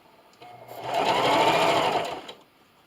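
Sewing machine stitching a quilt-as-you-go Halloween table runner, a close steady whirring run of about two seconds that rises and fades, no talking.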